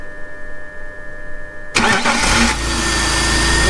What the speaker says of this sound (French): voir si ça fait effectivement tourner notre démarreur ou pas